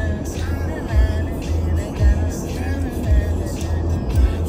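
Steady low engine and road rumble from inside a moving car, with periodic soft thumps from bumps or gear changes and faint music in the background.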